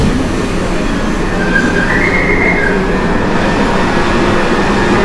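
A subway train rumbles steadily nearby at Hidalgo station in Mexico City, wheels faintly squealing on the rails as it rolls into the station.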